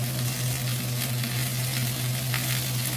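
Carrots and potatoes caramelizing in oil in a cast iron pan, a steady, close sizzle and crackle of frying with a constant low hum underneath, heard alone.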